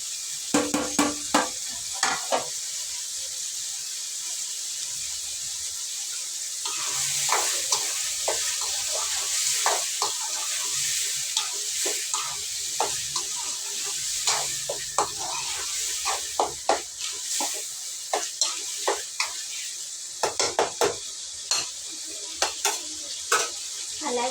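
A pan of gutti vankaya (stuffed eggplant) curry masala sizzles and fries steadily for a long stretch, broken by repeated scraping and clinking stirs of a spoon against the pan, close and without speech.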